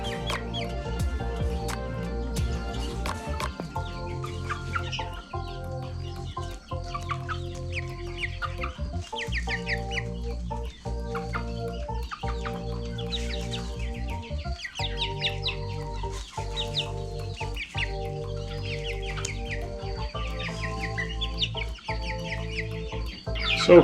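Chickens and roosters cluck continuously in a farm coop. The clucking is close and layered, with overlapping calls and no one speaking.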